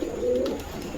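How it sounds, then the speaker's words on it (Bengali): A male Mukhi pigeon coos at a poultry farm, one low, throaty, sustained coo close by, steady and alone without voices. "এই যে নর ডাকতাছে"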